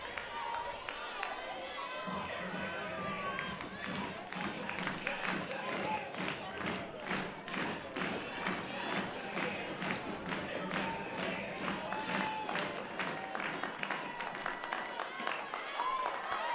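Crowd noise at a women's college softball game between Charlotte and Georgia, a steady murmur and cheering from the stands running throughout, with scattered taps and claps and a voice talking over it.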